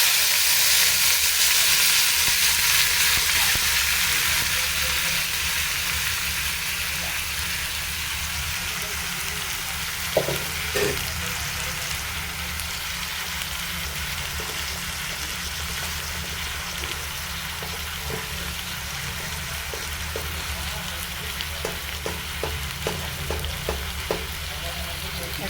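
Vegetables sizzle and crackle in a little oil in a wok, a steady close frying hiss with light stirring taps scattered through the second half.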